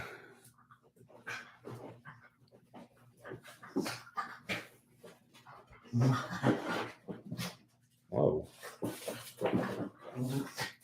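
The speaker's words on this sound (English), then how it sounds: "Dog fight. It's a fake fight. You guys are play fighting." Dogs play fighting at close range, trading growls, whimpers and short yelps in irregular bursts, louder scuffles toward the end, with a person briefly exclaiming.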